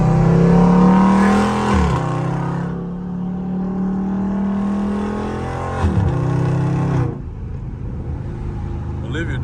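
A Dodge Scat Pack on its stock exhaust revs a few times, climbing and dropping back to a deep idle, with someone talking over the engine.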